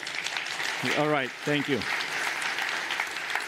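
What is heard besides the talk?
audience applause at a keynote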